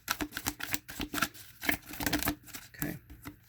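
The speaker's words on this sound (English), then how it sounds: "We'll do two more shuffles." A deck of cards being shuffled repeatedly in quick riffling bursts, close and fairly loud, with brief pauses between shuffles and faint talk in the background.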